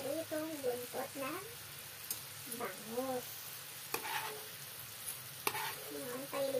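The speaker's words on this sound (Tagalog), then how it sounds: "Pag kumulo na siya, saka natin ilalagay yung ating pinirutong buntot na" Fried milkfish tail goes into a boiling sauce in a home kitchen, a soft sizzle and bubbling with a few sharp clinks, under intermittent talking.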